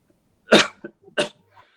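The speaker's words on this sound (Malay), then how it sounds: "Batuk pula." Two sharp, close coughs about half a second apart, with a short breathy sound between them and quiet afterward.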